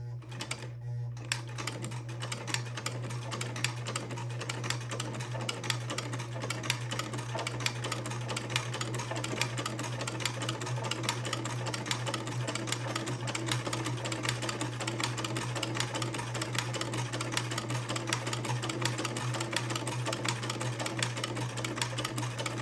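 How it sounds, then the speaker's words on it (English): A domestic sewing machine stitches a buttonhole on a pinafore bib, running as a fast, steady mechanical clatter for over twenty seconds after a brief pause at the start, over a low steady hum with no talking. "And then I can sew the first of the buttonholes."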